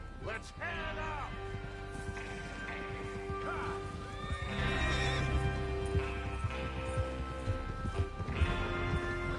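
Horses in Red Dead Redemption 2 neigh and whinny over steady clip-clopping hooves, with game music and ambience underneath and voices in the background.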